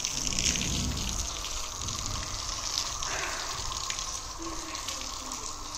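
Water gushes steadily onto the ground while a village yard is watered, a continuous hissing splash that stays fairly loud and even throughout.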